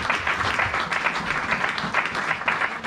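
A church congregation applauding together, a dense, steady wash of clapping that fills the room evenly from start to finish without any voices on top.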